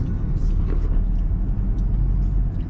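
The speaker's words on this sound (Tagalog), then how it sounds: "Sasakyan lang." Traffic rolls along a road in Koror, Palau, heard as a continuous loud low rumble of passing cars with no breaks.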